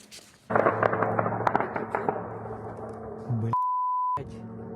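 A missile flies over a city in Krasnodar Krai: loud crackling bangs and booms over a dense roar, then a steady electronic tone briefly cuts in before the rumbling noise resumes.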